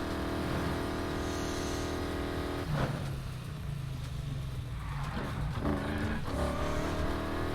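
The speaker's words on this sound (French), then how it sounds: "Allez ma petite Mustang, avance." Ford Mustang engine in the racing game Need for Speed Heat, a loud steady droning roar with revs rising and falling and gear changes as the car tries to move off.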